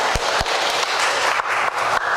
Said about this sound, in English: Let's give the sun a big round of applause for helping us out